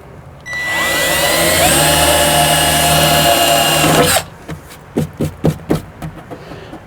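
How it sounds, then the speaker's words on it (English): A power drill whines steadily for about four seconds as it bores a mounting hole in a ProMaster van body for a rear window shade, then stops abruptly, followed by a handful of short clicks and taps nearby. "So I've got that one marked. Let's drill the hole."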